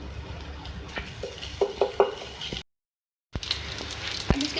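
Chopped garlic stirred in a pan, with soft scraping and a few light utensil clinks over a low background, broken by a short silent gap.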